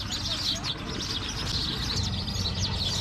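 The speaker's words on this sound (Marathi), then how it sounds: "खूप वर्षांनी हा किलबिलाट आवाज कानी पडलेला आहे" Many birds chirp and twitter steadily in a tree, a dense, continuous chorus of high calls heard close, with a voice speaking faintly beneath it.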